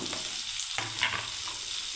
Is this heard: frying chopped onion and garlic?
yes